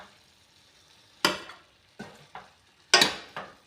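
Boiled cauliflower sabzi is stirred in a pot, with four or five short scraping, sizzling strokes spaced about a second apart against a quiet background.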